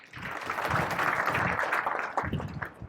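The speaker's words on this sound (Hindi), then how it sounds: "बजाओ ताली" An audience claps hands at a Hindi devotional talk on pure devotion, a dense, steady patter filling about three seconds at moderate loudness.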